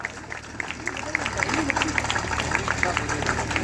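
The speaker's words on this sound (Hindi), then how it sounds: "तो तालियों से हम धन्यवाद देंगे गवर्नर सर को।" An audience at an Uttarakhand governor's tribute event for fallen soldiers' families breaks into applause. Dense, steady crowd clapping swells after a quieter opening and carries on evenly at moderate distance.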